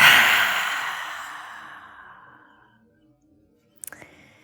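A long, deep exhale during a relaxing yoga session, loud and breathy at first and fading smoothly over about three seconds into silence, followed by a couple of faint clicks.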